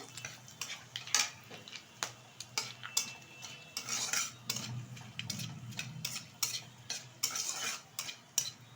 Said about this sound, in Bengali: একটা তেজপাতা, দুটো শুকনো লঙ্কা, কিছুটা গোটা জিরে, কিছুটা গোটা গরম মশলা। ভালোভাবে কিন্তু ভেজে নেব।